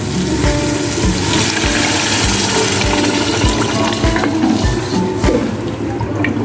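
Water pours steadily into a cooking pot while chana pulao is being made, a continuous close splashing rush with small knocks and clatters.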